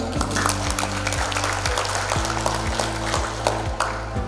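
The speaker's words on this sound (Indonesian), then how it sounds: "Tepuk tangan." An audience at a ceremony launching a fish-farming village in Subang claps in a lively patter beneath loud, steady background music with a low, repeating tonal pattern.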